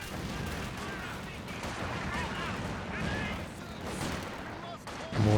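Battle in the strategy game Company of Heroes 2, with dense bombing and artillery fire: continuous rattling gunfire and booms, and a commentator talking over the action.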